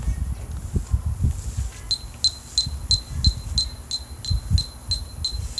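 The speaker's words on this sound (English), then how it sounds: "this metronome is right now set at 180 beats per minute" A metronome set to 180 beats per minute gives a steady run of short, high ticks from about two seconds in. The ticks sit over low rumbling background noise and are fairly faint.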